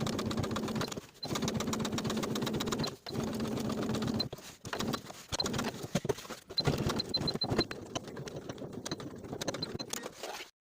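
A sewing machine stitches fabric in bursts of fast, even whirring, close by, broken by short pauses as the seam on a pair of palazzo pants with a fly-front zipper is sewn.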